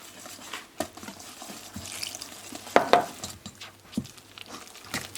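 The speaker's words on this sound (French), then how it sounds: "Allez, je vais commencer à mélanger." A whisk or spoon stirring crepe batter of flour, salt, egg and milk in a bowl, soft scraping strokes with a few sharper clinks against the bowl, close and fairly quiet.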